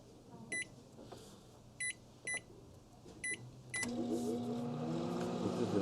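Four short electronic beeps spaced about a second apart, then a steady low hum with rattling as an old microwave oven starts running.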